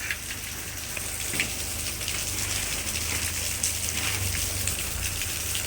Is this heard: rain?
yes